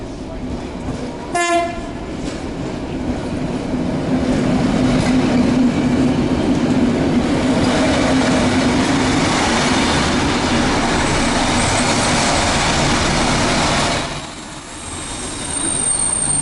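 Passenger train on a run to Sutomore, Montenegro, with a horn blast near the start, then steady rolling rumble, wheel noise and faint squeal continuing loudly throughout, no talk.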